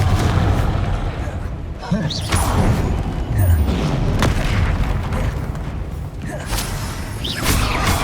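A Confringo fire spell explodes in the video game Hogwarts Legacy, a booming blast set in a dense, loud stream of continuous combat effects, whooshes and rumbling.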